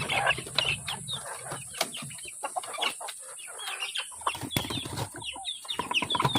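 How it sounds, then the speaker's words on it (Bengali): Chickens cluck and squawk close by, with occasional wing flapping and scattered chirps, busy and irregular throughout. "এখন আমি মুরগিগুলো ছেড়ে নিই তোমরা দেখো কি কি মুরগি আছে"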